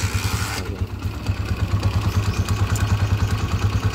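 A Honda TMX155 motorcycle engine with a third-gear fault and a noisy engine idles close by with a rough, rhythmic chugging pulse, steady throughout with some mechanical clatter.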